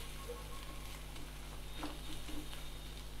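Methi fenugreek leaves frying in a pan, a faint, steady sizzle with soft crackles under a low constant hum.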